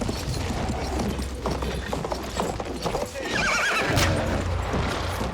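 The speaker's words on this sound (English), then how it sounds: "Horses!" Horses whinny and hooves clip-clop amid a busy, noisy World War I video game scene, with a clear high neigh rising near the end.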